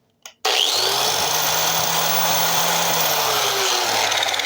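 A Hyper Tough angle grinder starts after a brief click and then runs loud and steady, its high motor whine holding constant at close range with no talk over it.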